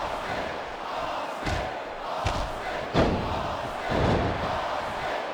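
Arena crowd noise from the WWE SmackDown vs Raw 2008 wrestling video game during an Elimination Chamber match, a steady roar of cheering with several brief thuds and slams rising over it.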